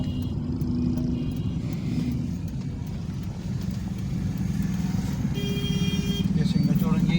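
A car pulls away and drives along a busy road in Karachi after a U-turn, its engine droning low and steady with passing traffic, while someone talks over it throughout.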